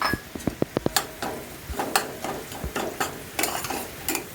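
Konkani-style ground masala of roasted onion, coconut, garlic, coriander and ginger sautéed in very hot oil, with sharp spoon clicks against the pan over a soft crackling sizzle at close range.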